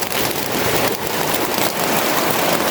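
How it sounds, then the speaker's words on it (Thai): Heavy rain pours steadily onto a makeshift shelter built in a stream, a loud, dense, continuous hiss of drops with no pauses and no voices. "ตอนนี้ก็ฝนตกเนาะทุกคนเนาะ"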